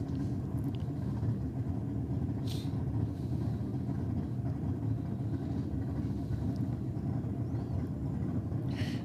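An early-model Mazda RX-7 at a drag strip during a Holden vs Ford meet, its engine a steady, loud low rumble held through the burnout with no break, plus a couple of brief higher squeals.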